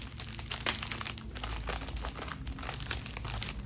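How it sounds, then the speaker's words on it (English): Tissue wrapping paper from a subscription box crinkles and rustles up close, with a few sharper crackles standing out from the steady handling and no speech. "This is really pretty tissue paper, or wrapping paper."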